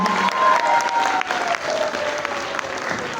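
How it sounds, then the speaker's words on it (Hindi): Sustained applause from an audience rising to a standing ovation at an Independence Day celebration at the PBM Sindh provincial office in Karachi, dense steady clapping with some crowd noise throughout. "आप सबकी भरपूर तालियां होनी चाहिए, खड़े होके"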